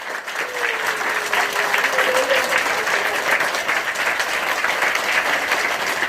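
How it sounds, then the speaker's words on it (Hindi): Audience at a Maurya Kushwaha annual community gathering in Bharuch claps steadily for about six seconds, a dense, loud, continuous wash of applause with a faint voice briefly audible beneath it. "बताइए दिल खोल के ताली।"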